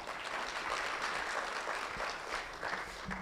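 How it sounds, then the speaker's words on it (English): An audience at an electoral justice compendium launch gives sustained applause, a steady, fairly faint wash of clapping that goes on without a break, with no speech over it. "can we give them another round of applause?"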